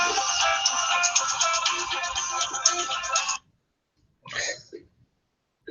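A mobile phone ringtone plays loudly and steadily for about three seconds, then cuts off; a brief faint sound such as a breath or throat clearing follows.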